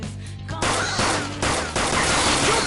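Gunfire from the video game Persona 5 Royal comes in loud, close bursts: a quieter opening, then several sharp volleys with rattling tails in quick succession.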